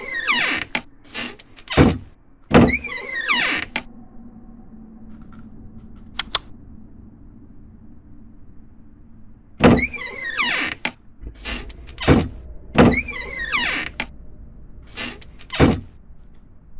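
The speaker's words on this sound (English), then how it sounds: "now we can open and close the door" Short mechanical video game door sounds repeat in clusters, a door opening and shutting several times, with quiet gaps between the bursts.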